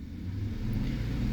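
A 2009 Chevy Silverado 5.3L V8 with a cylinder 2 misfire revs briefly, its low engine rumble building steadily in a short throttle blip.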